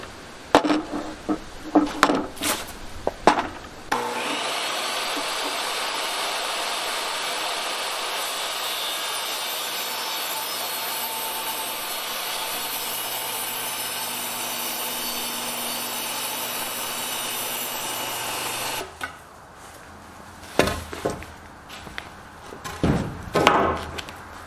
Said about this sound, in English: Now you shouldn't really freehand on a table saw, but I'm going to.